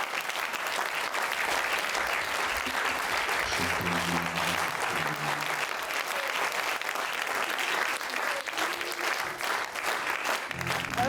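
A theater audience applauds actors and screenwriters called to the stage at the end of a comedy show, long, steady clapping from a large crowd with faint voices and music briefly surfacing underneath.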